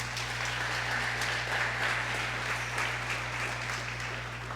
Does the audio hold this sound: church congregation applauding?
yes